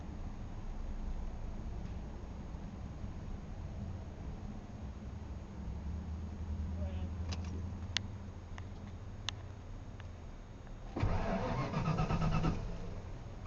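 A 1994 Ford F150 with new spark plugs cranks without starting, a low, steady engine turnover droning for several seconds at moderate distance, followed by a brief louder burst of noise near the end.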